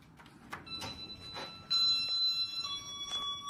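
Otis elevator chime bells at a medical center ringing inside the car, a couple of clear sustained tones over faint background hum and small mechanical noises.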